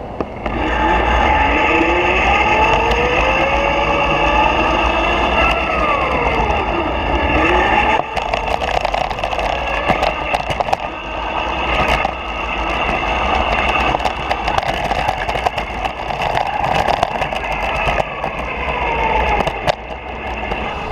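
A GoPed I-Ped 2 electric scooter rides along with a steady electric whine, whirring chain drone and road rumble, the pitch rising and falling with speed.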